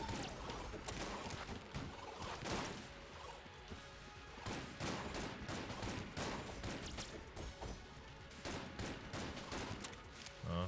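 Rapid gunfire from a weapon in the game Enter the Gungeon, a dense run of sharp shots with crashing impacts and bursts packed across the whole stretch, loud and busy with no pauses.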